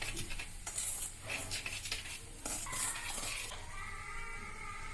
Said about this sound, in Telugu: వీటన్నింటినీ బాగా కలిసేలాగా కలుపుకోవాలి.